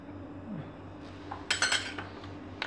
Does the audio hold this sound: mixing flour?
yes